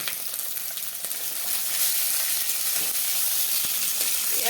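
Broiler chicken pieces and browned onions sizzle and spit in a hot pan, a steady close frying crackle that swells slightly louder partway through, with no talking over it.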